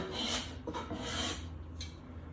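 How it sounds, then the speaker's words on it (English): A sharp low angle block plane takes fine wood shavings off a guitar headstock, giving quick, close, papery rasping strokes that repeat several times in a row. "The trusty low angle block plane."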